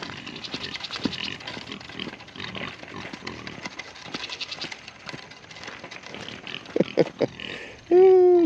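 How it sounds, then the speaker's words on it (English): Pigs grunt and snort close by in short irregular bursts, ending with a loud drawn-out squeal-like call. "the pigs are following me"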